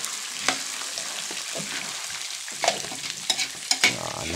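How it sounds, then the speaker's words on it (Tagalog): Peanut butter mixture with margarine and a little salt being stirred in a pan, soft continuous scraping with a faint sizzle and a few sharper clicks of the spoon near the end, close and moderately loud. "Nahango na natin pero halo pa rin tayo ng halo."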